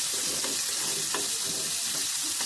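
Onion pieces dropped into hot oil fry in a pan with a dense, even sizzle and a few soft stirring knocks, close and steady throughout.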